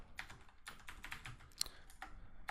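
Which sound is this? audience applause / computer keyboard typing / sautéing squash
computer keyboard typing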